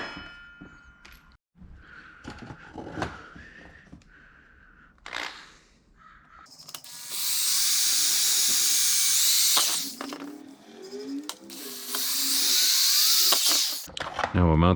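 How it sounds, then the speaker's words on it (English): Power drill boring holes into a fabricated panel on a Toyota FJ Cruiser, in two loud, sustained high-pitched whining bursts. Quieter shop noise and a few knocks come before them. "We're going to drill a couple holes here."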